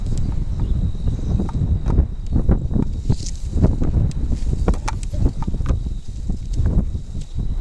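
Strong wind gusting across an open field beside a blind, buffeting the microphone with a continuous low roar; irregular rustles and thumps of handling or footsteps run through it, with no talking.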